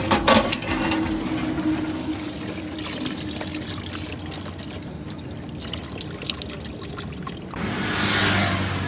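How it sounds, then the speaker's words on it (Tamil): Water splashes and pours close by during a face wash, a steady running gush broken by splashes and ending in a louder rush of pouring water, with no talking. "இந்த ஃபேஸ் வாஷ் பண்ணுறதுக்கு நானாக தண்ணி அடித்து வந்து மூஞ்சி கழுவ வேண்டியதாக இருக்குது."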